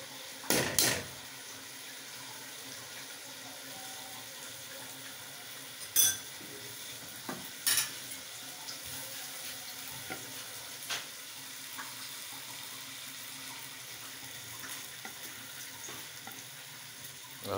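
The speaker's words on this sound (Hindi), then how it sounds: "अभी ऐड कर देते हैं मैकरोनीज़।" Macaroni with capsicum and cabbage frying in a pan gives a steady, low sizzle, with occasional clinks and scrapes of a stirring spoon against the pan scattered throughout.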